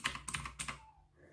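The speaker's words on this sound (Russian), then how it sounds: "нормальный звук для обычной механической клавиатуры" A mechanical computer keyboard clacks under quick typing, about half a dozen crisp, close keystrokes in a fast burst that trails off into quiet.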